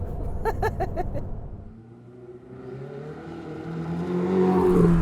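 A 2017 Ferrari 488 GTB with a 7-speed dual-clutch gearbox accelerates hard, its engine note dropping off briefly after early gearshift bursts, then building into a rising, louder howl toward the end.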